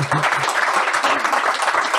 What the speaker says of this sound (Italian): un applauso così facciamo sentire che il pubblico c'è